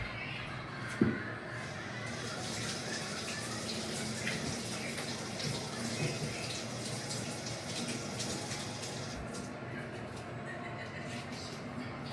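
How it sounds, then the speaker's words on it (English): Tap water runs into a sink to rinse ginger, a steady close splashing flow that continues throughout, with a brief knock near the start and faint kitchen sounds behind. "Just gonna rinse the ginger in this really quick."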